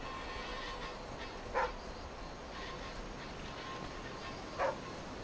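A dog in the video game The Flame in the Flood gives two short, separate barks a few seconds apart, fairly quiet over a steady background of ambient noise.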